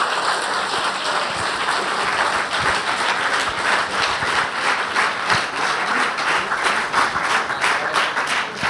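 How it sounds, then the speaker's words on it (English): Continuous, dense applause from an audience at a quiz semi-final on Goa's heritage, steady and fairly loud for the whole stretch, with no speech over it. "Please clap for them."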